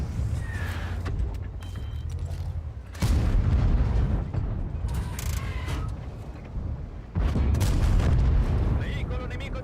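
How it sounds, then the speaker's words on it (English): Heavy booming cannon blasts ring out in a World of Tanks-style tank battle game, with two loud explosive bursts separated by rumbling, crackling battle noise and a voice talking over the action. "I love artillery."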